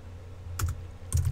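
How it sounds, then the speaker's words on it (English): Typing on a computer keyboard with one hand, two short clusters of close clicking keystrokes over a quiet low background hum, with no speech. "Don't mind my typing."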